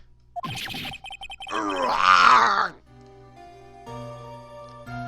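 A long, strained, groaning scream from the game Ace Attorney rises and sustains before cutting off, followed by dramatic synthesized game music; shorter vocal bursts precede it.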